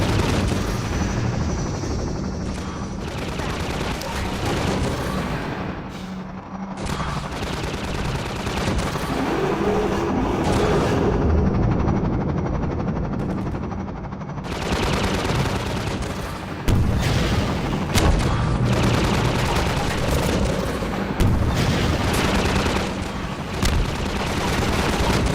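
Rocket launcher blasts and heavy explosions from Half-Life 2 roar almost continuously, a dense, loud barrage of booms and gunfire-like bursts with brief lulls around the middle.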